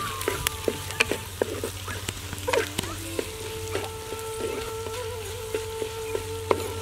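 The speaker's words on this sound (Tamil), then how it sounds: "கொஞ்சம் எண்ணெயில் வதங்கட்டும்" Crushed pepper and cumin fry in hot oil for a village-style dried fish curry, a steady close sizzle broken by scattered pops and stirring clicks, with no talking.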